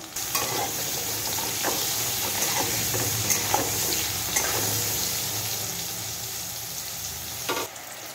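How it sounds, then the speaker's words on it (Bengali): Eggplant pieces with turmeric frying in a pan, a loud continuous close sizzle broken by sharp scraping strokes of a spatula stirring, no voices. "বেগুনটা অনেকটা ভাজা হয়ে এসছে,"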